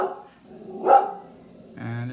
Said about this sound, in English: my dog is trying to get my attention